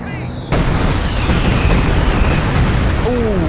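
Explosions from a Stuka dive bomber attack in a World War II strategy game erupt in a sudden loud blast, then a dense, sustained roar of rumbling detonations and debris with a faint whistling tone near the end.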